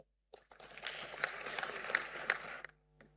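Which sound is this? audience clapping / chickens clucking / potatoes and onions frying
audience clapping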